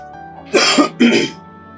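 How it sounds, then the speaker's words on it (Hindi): A man coughs twice in quick succession, close and loud, with a steady low hum in the background. "मुझे अचानक खांसी ज्यादा हो गया, मैं जरा पानी पीता हूँ"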